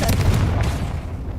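A Confringo explosive spell blast in Hogwarts Legacy bursts with a loud, booming low-end impact and crackling burst, sustained for a moment before tailing off; no talk over it.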